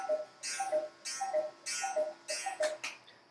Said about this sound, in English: You just heard my cuckoo clock